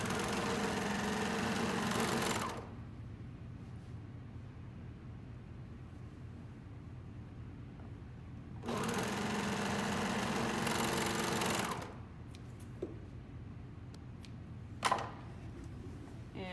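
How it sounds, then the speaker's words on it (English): Serger stitching the shoulder seams of a coverall closed, heard as two steady whirring motor runs of a few seconds each, separated by quiet, with a small click near the end. "we will just match the shoulder seams. Serge them closed."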